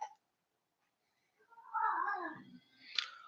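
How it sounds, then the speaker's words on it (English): An unhappy cat lets out a drawn-out, wavering meow followed by a sharper cry, close and moderately loud after a brief silence. "That's a very unhappy cat."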